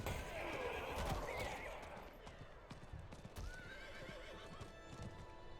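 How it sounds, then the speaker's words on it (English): Horse galloping with rhythmic clip-clop hooves and a neigh in Diablo IV, steady hoofbeats under game ambience with a voice talking over it. "using a horse is much more enjoyable now"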